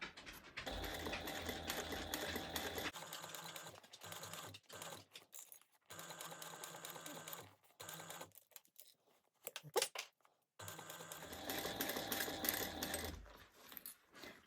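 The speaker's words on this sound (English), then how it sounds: "And then we're going to sew around at a 1/4 inch seam allowance." A sewing machine stitches a quarter-inch seam around a bag. It runs in close, rapid mechanical bursts of a few seconds each, separated by short quiet pauses and small handling noises.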